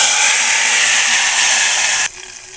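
Hot oil tempering with mustard seeds and a dried red chili, poured over sambar rice, gives a loud, steady hissing sizzle that cuts off abruptly near the end, leaving a faint hiss.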